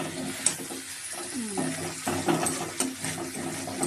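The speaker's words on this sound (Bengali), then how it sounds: "আমি জল দিয়ে দেবো হয়ে গেছে এটা গরম জল" Hot water poured into a pan of jackfruit and potato curry on the stove, a soft splashing trickle with faint clinks, fairly quiet and close, no talking.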